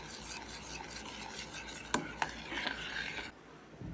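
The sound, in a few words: stirring chocolate mayo cake batter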